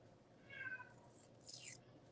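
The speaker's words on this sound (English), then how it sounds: "so you might hear some meowing" Two soft meows from a cat, one after the other, faint against a quiet room.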